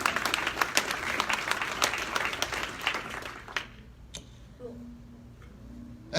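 Applause from an awards event audience for honoree Donovan Cronkite, loud dense clapping for about three and a half seconds that then stops abruptly, leaving a quiet room with a few faint stray claps.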